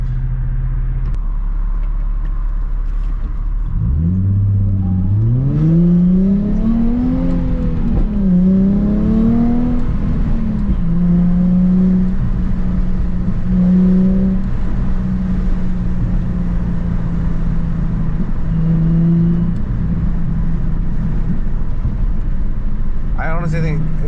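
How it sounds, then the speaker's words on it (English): Nissan 350Z driving with the windows down, engine revving up through the gears with a rising and falling whine, steady road and wind noise throughout, and faint rattles in the cabin. "I'm gonna drive a little bit more with the windows down, so maybe you can get a little bit better idea."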